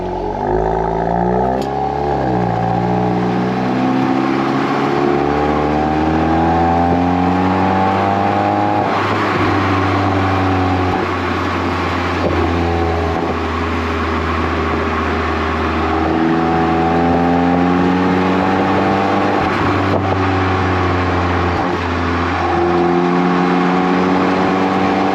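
A 2025 Volkswagen Golf R exhaust roars through repeated hard revs and accelerating gear pulls, its pitch sweeping up and dropping at each shift, loud and close throughout with no voices.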